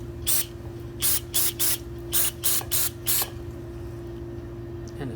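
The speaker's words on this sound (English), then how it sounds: "I'm just going to hose it off real quick a little bit," Carb cleaner sprayed from an aerosol can onto a motorcycle carburetor body in a series of short, sharp hissing bursts, about eight in a rhythmic group, over a steady low hum, then quiet.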